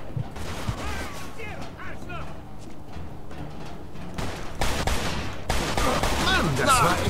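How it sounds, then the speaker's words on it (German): Automatic weapon fire in the Mafia II video game, bursts of rapid shots crackling amid game noise, with someone talking over parts of it and heavier volleys toward the end. "Oh, da hat eine automatische Waffe."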